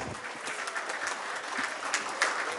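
Audience at a multicultural family support center event applauding to welcome ocarina and pan flute performers, a continuous crowd clap with scattered sharper hand claps standing out, no talk.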